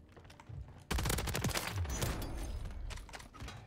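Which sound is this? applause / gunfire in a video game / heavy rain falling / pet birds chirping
gunfire in a video game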